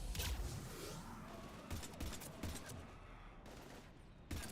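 Gunfire in Mass Effect 3 as husks are shot down, fairly faint repeated shots and bursts with short gaps between volleys.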